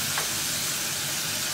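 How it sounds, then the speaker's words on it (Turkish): Potato pieces frying on high heat in a pan, a dense, steady sizzle filling the short stretch without pause, close and loud, with no voices. "Patatesi yüksek ayara alayım, kızartayım hepsini."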